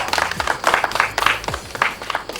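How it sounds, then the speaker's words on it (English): An audience claps in a round of applause at a ceremony: loose, uneven hand claps from a modest crowd, close and lively, with faint voices mixed in. "A round of applause for"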